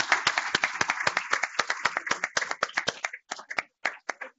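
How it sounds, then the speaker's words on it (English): A small conference audience gives a round of applause for the speakers and a sponsor at a tobacco and e-cigarette health event, fairly sparse and close, thinning into a few last scattered claps near the end. "Please join me in another round of applause for our speakers and our sponsor"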